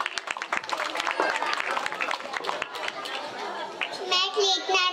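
Audience clapping for a child dressed as Radha at a Ganesh mandal fancy dress contest, brisk scattered claps mixed with children's chatter and voices talking over them.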